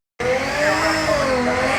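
Cars at the LZ World Tour show at Castle Combe circuit, a loud close engine drone with a tonal whine that swells and slides in pitch as one passes, no talking.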